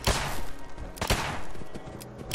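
Gunfire and explosions in the video game Fallout 4, set in the Glowing Sea: a dense, noisy battle with sharp loud blasts near the start, around one second and at the very end.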